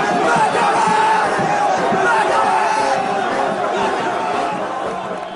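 A large crowd at a soldiers' regiment homecoming clamors with many overlapping voices, cheers and chatter, loud and sustained before easing slightly at the end.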